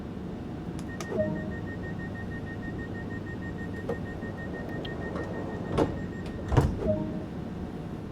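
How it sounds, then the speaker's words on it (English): Class 375 train doors locking in Train Sim World 2: steady electronic warning tones carry through, with short beeps and a few hard mechanical thuds as the doors close and lock near the end. "Set the doors to locked."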